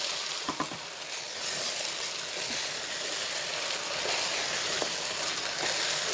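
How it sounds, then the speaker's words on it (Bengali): Rice grains fried with spices in oil in a pan give off a steady, fairly quiet sizzle, with a few faint scraping clicks of stirring and no talking. "আর চালটা একটু ভাজা ভাজা করবো মশলার সাথে"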